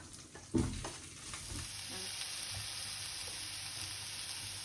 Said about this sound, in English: Now as this is frying, we're going to add in the onions